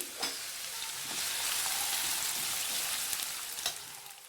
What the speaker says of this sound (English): Now I am going to add the nicely chopped onions. I have taken one onion nicely chopped. Fry it nicely.